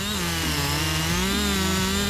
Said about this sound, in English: Steel MS260 is one of the highly rated chainsaw models in Steel's product line.